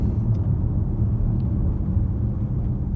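A 2024 Skoda Kodiaq iV plug-in hybrid SUV drives briskly along a curvy road, heard from inside as a steady low rumble of road and engine noise with no talk.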